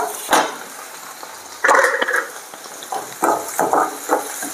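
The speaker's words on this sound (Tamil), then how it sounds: "வெங்காயம் நல்லா வதங்கட்டும்." Onions sautéing in a pan for an oyster mushroom stir-fry, with loud, close clatters and scrapes of a spatula against the pan in irregular bursts over a faint sizzle.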